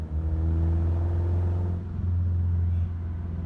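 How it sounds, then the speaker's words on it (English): A 2000 Toyota Tacoma truck driving off road gives a loud, steady low engine rumble with a constant hum that dips briefly midway and then returns. "what could be making this kind of noise? It's a Toyota."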